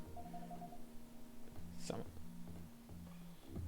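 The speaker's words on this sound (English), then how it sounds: "I think that might be a phone call." Video game Coffee Talk 2: a soft electronic phone ring pulses in repeated short tones, with quiet background music and a brief chime in the middle.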